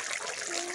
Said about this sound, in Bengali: গরম মশলা ধুই